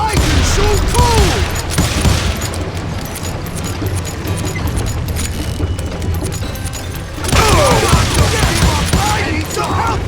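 Gunfire rattles through a Call of Juarez Gunslinger gunfight, dense repeated shots and booms mixed with shouting voices, loud and continuous, with a fresh burst near the end.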